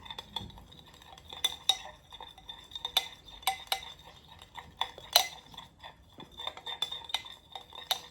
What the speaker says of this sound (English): I'm gonna get a spoon and mix it together.